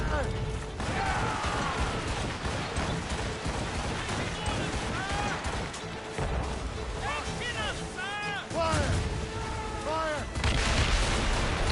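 Puckle gun firing in Assassin's Creed Rogue, booming shots and crashes under a dense battle soundscape with whistling projectiles, continuous and loud, while someone talks over it.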